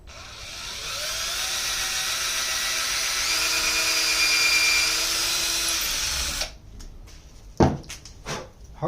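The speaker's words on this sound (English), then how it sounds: "Hardest part of freehand drilling is actually drilling a hole straight through what it is you're trying to drill." A power drill whines steadily at close range for about six seconds while freehand drilling a hole through a workpiece, then stops, followed by a few sharp knocks and handling sounds.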